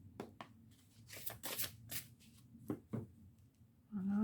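Oracle cards are shuffled by hand close up, giving soft riffling and sliding bursts with small taps between them, fairly quiet and without talk.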